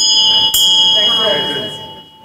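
A ringing meditation bell sustains its bright, steady tone, freshly struck once more partway through, then gradually decays toward silence.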